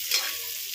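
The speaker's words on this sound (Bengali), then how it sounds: "কিছুটা পুড়িয়ে পুড়িয়ে ভাজবো" Marinated fish, coated in garlic, salt and pepper with a little white oil, frying on a tawa, giving a steady close sizzle with no talk.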